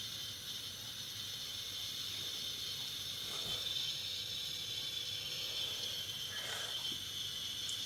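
A Bialetti Mukka Express coffee maker gives off a steady, faint, continuous hiss of steam that runs unbroken throughout, with a few light mechanical ticks along the way.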